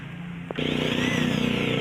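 A power drill is used to mark wood for a shelf that holds religious statues. After a brief quiet start, it spins up into a loud, steady, close whine that holds to the end.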